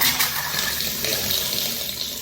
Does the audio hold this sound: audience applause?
no